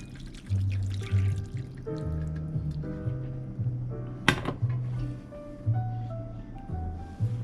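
Tonkotsu broth poured over instant ramen noodles in a bowl, a close liquid pour with gurgling, trickling and dripping in uneven bursts across several seconds.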